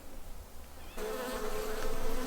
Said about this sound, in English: there's a lot of bee activity in this hive